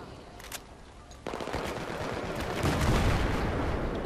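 Battlefield 3 video game combat: a faint shot, then a sudden loud burst that carries into sustained, dense rapid gunfire lasting several seconds, with no voices.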